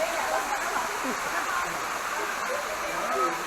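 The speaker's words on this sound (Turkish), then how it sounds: "Evet dördüncü şelale." Steady rushing water fills the whole stretch, a dense broadband roar from a nearby waterfall at Tatlıca Waterfalls, with faint voices mixed in underneath.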